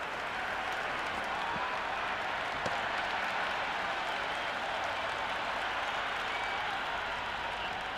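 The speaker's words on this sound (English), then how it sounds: "There's a buzz, a real buzz coming from the stands." Steady crowd noise from the stands at an England versus Sri Lanka T10 cricket match, a continuous broad wash of cheering and applause holding at an even level throughout, distant and diffuse with no single voice standing out.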